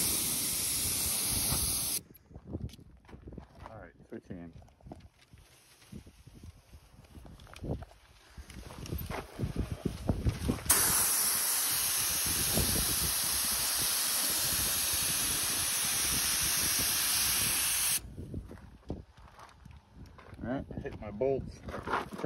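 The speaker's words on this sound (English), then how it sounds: "trying to get my air hose off my material." Compressed air blasts from a shop air hose while cleaning bolts and holes on a cabover truck frame, a steady loud hiss sustained for long stretches between shorter bursts and pauses, close to the mic.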